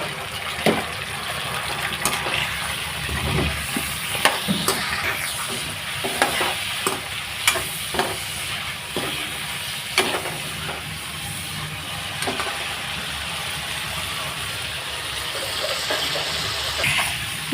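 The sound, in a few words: brinjal pieces frying in oil with turmeric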